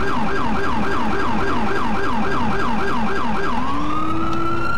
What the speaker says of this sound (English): they always have the siren on